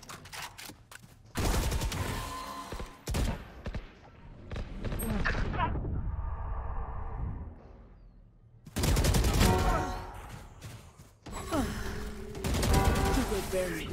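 Automatic gunfire in the Valorant shooter, several loud sustained bursts of rapid shots separated by short pauses, with a voice and other game sounds in the gaps.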